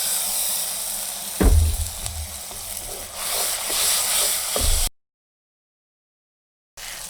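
Spice masala with yogurt frying in a pan for beef paya, a steady close sizzle with a few louder bursts of spatter and stirring, cutting off into silence for about two seconds before the sizzle returns.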